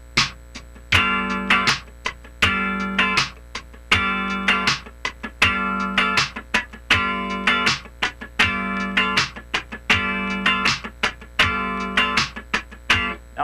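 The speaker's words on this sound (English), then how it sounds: "After we play the first attack, we're going to float our hand a couple of sixteenths and then hit an upstroke." Funk rhythm guitar plays a repeating sixteenth-note pattern: a sharp first attack, a floated gap, then a crisp upstroke, looping steadily and loud with no talking.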